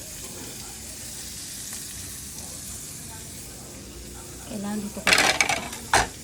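Ground chicken fries in a pan with a low, steady sizzle. Near the end, a sharp scrape and several clatters of a utensil against the pan cut in, and a voice speaks briefly over the cooking.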